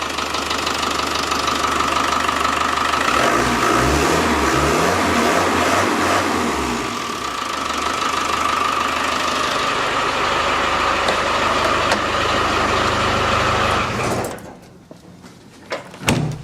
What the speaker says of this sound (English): Engine runs, sounds really sweet actually.